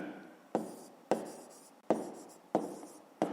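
Pen or chalk writing out an answer during a fifth-grade math lesson, heard as five rhythmic strokes roughly every half second to second, each starting with a sharp tap and trailing off in a scratch, close and with no talk.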